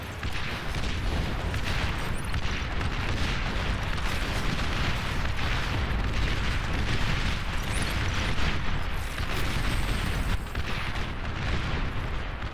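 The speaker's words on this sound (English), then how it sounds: "Looks like he switched to the Gauss cannon here. Able to land those shots more reliably." Booming explosions and cannon fire roll on continuously through a large real-time strategy battle in Beyond All Reason, with Gauss cannon shots landing amid a dense, steady wash of blasts.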